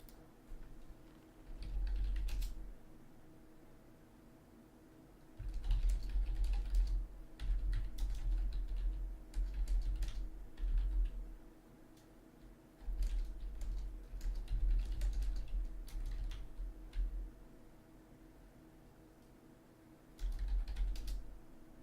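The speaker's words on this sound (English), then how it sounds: "I'm just typing to Segos what his options are" Someone types a message on a computer keyboard during a land battle tournament, with quiet bursts of rapid key clicks separated by pauses. No one speaks.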